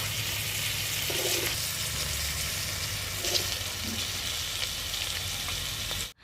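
Chicken meat frying in oil for a Bengali snack recipe gives a steady, close sizzle and hiss that runs unbroken for about six seconds with a few faint knocks, then cuts off abruptly at the end.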